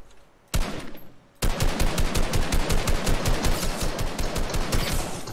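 Gunfire in the video game Fortnite, first a short burst, then a sustained rapid string of loud, evenly spaced shots that keeps going, with no voices over it.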